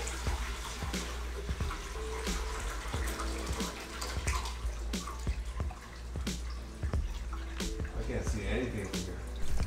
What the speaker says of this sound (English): The water is flowing out of there.